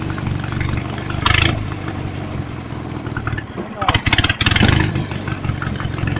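Lawnmower engine with an alternator fitted, idling and then bogging under load, a rumbling mid-pitched putter that swells into brief rough bursts, heard close with a voice speaking over it.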